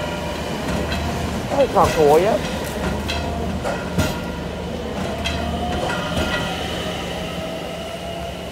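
Trains run through Delft Campus station with a continuous loud rail rumble, clickety-clack and a brief wheel squeal, while people talk nearby over the noise.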